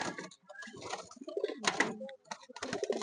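Pigeons kept for sale in Dindigul coo in soft, repeated bursts with short pauses between them, fairly close and moderately quiet.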